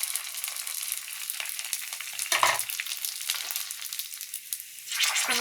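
Fuchka puris fry in hot oil. There is a bright, crackling sizzle with stirring scrapes, and it swells in a couple of louder bursts as the shells turn. It is close and steady, with no talking.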